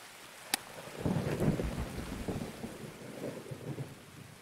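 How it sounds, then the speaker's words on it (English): Steady rain with low rumbling thunder in the video game Escape from Tarkov, set on the Customs map. A sharp crack comes early, then a continuous wash of rain under rolling booms, with no talking. "I didn't realize it was raining."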